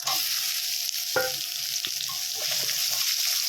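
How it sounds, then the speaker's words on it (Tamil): Two chopped large onions sizzle and crackle steadily in hot oil, close up, with occasional scrapes and knocks of a spoon stirring the pan, while cooking drumstick-leaf sambar. "சேர்த்து நல்லா எண்ணெயில் ஒரு ரெண்டு நிமிஷம் நல்லா வதக்கிக்கணும்"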